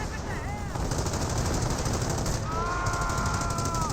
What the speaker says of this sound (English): Panzer 4C, oh, that's a strafing run.